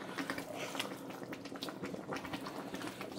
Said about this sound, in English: we're gonna allow our cassava to cook